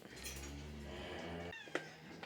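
A cat meows in a long, drawn-out, whiny call, then gives a couple of shorter sharp mews. The calls are close but quiet, set in a farm dairy room with light knocks in the background.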